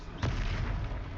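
A Confringo blasting curse from the Hogwarts Legacy video game going off as a single short, dull boom over a steady low rumble of game background noise.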